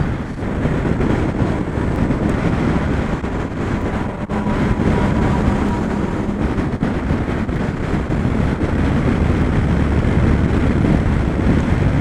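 Loud, continuous KTM Duke 390 motorcycle engine drone with heavy wind roar on a cold, foggy ride, a steady sound with no talking.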